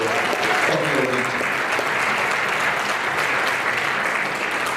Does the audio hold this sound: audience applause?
yes